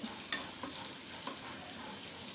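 Onions frying in a pan, a soft steady sizzle with a few light clicks of stirring, quiet and close.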